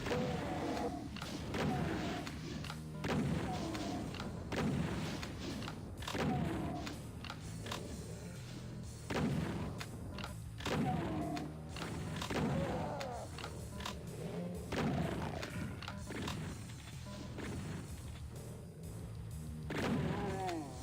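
In the Doom video game, the super shotgun fires in a run of heavy booming blasts among dense, continuous game noise, with roughly a dozen shots spread through the stretch and no clear talk.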